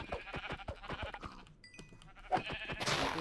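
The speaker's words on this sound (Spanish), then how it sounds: "Mira, aquí tengo ovejas." Sheep bleating in the video game Minecraft, a few short rough calls standing alone in a quiet stretch, followed by a brief burst of bright noise.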